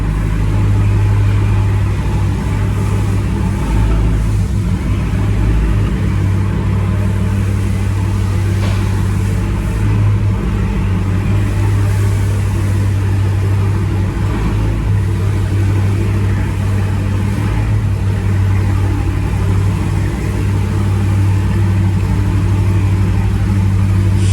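A Dodge Hellcat's engine rumbles steadily and loud, close by, as the car pulls slowly into a tire shop, a deep low drone holding throughout with slight swells in throttle and no talk.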